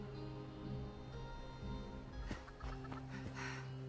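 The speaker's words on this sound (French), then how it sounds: "Mais la poule, casse-toi!" Chicken clucking in the online game Fallout 76, a few short clucks over a constant dense backdrop of game sound and music.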